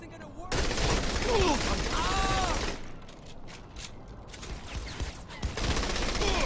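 Gunfire and explosions in Saints Row The Third, dense loud rapid shooting and blasts that continue through the clip, with voices faintly mixed in amid the chaotic game sound.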